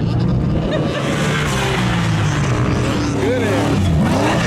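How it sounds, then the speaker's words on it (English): A Turbo S off-road vehicle roars across sand dunes, its engine revving loudly and continuously with rising and falling pitch sweeps as it flies over a crest, with voices mixed in. "Goes Jason and Jonathan's Turbo S. Flying"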